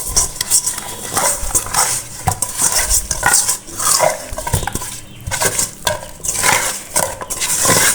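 Hilsa fish is mixed by hand with mustard oil and salt in a bowl, producing close, wet squelching and slapping with light clinks of dishware in an irregular rhythm.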